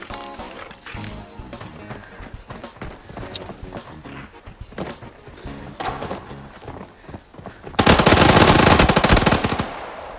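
Gunfire in the video game Arena Breakout, scattered shots and footsteps at first, then a loud sustained automatic burst near the end.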